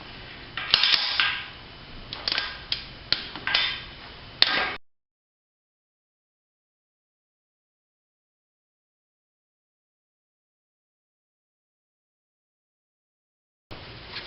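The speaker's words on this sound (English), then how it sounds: "you can set your torque wrench to 31 foot-pounds and torque them all down" Torque wrench tightening exhaust manifold nuts to 31 foot-pounds on a 22RE engine: a few seconds of sharp ratcheting clicks and snaps close by, then the sound cuts to silence.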